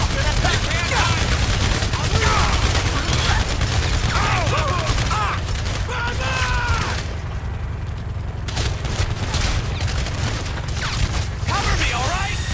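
Gunfire in a GTA 5 police-versus-bodyguards shootout: repeated rapid shots and bursts crackle throughout, mixed with mechanical clatter and shouting voices, loud and dense for the whole stretch.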